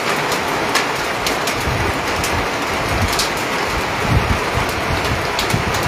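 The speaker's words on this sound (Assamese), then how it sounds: "ইমান প্ৰচণ্ড ধুমুহা, শিলাবৃষ্টি, বৰষুণ একেলগতে আহিছে" A hailstorm in Nagaon, Assam, with hailstones, strong wind and rain, heard as a steady, dense roar of falling rain and hail with scattered louder impacts throughout, no voices.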